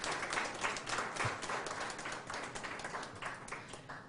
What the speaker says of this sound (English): So let's just give him a round of applause for all that he has done